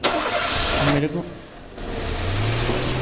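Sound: car engine starting in a video game (Evil Nun College)

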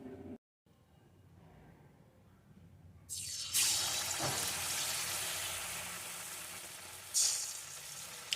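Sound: pitha balls coated in batter frying in oil

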